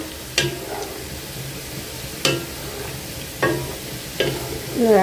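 Potatoes frying with nearly cooked meat in a pan, a continuous low sizzle broken by four or five distinct scraping stirs of a spatula at irregular intervals.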